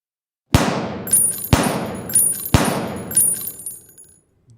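Three sharp gunshot effects fire at roughly one-second intervals, each followed by the bright metallic tinkle of a bullet casing bouncing on the ground, close and loud with no talking.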